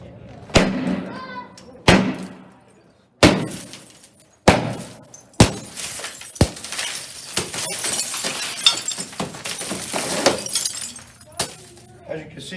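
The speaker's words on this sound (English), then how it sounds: "which means I expect when I hit it, it's going to shatter and it's going to stay together" Window glass struck repeatedly, each hit a loud sharp crack and shatter, then a long stretch of crunching, crumbling glass with further knocks; talking can be heard in the background.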